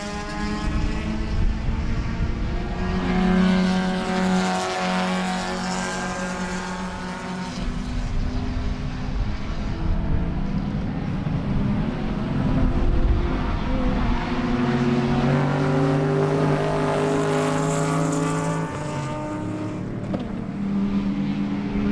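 Race cars in qualifying races for the South Atlantic Road Racing Championship at Sebring roar steadily throughout, engine notes rising and falling as cars pass at moderate distance, with no talk over the sustained drone.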